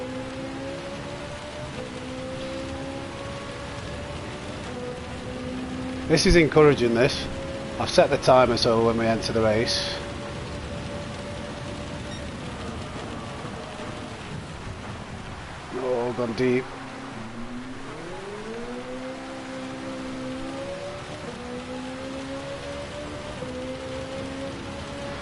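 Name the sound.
torrential rain in a racing video game at Red Bull Ring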